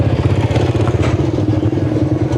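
A motorcycle engine putters loudly and steadily nearby at a rural morning market in Laos, with clattering and background bustle around it.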